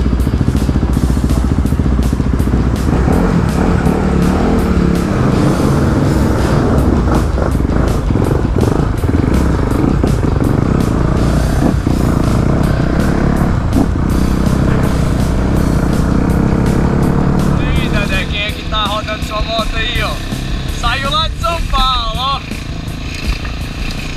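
A borrowed Honda CRF 250RX dirt bike on a trail near Palmas revs steadily close by for most of the stretch, its buzzing engine easing toward the end as higher whining tones come through.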